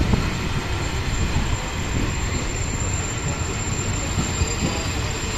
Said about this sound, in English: they actually are reversing a train without a loco at the other end.